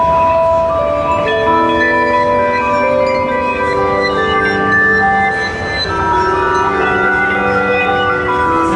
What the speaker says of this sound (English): this sound here is a vibraphone morphed with a guiro